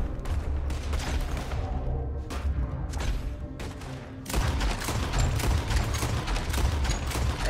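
Rapid, dense gunfire from a Red Dead Redemption 2 shootout, loud and continuous bursts of overlapping shots with a brief lull before a heavier volley resumes.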